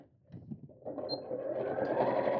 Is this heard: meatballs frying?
no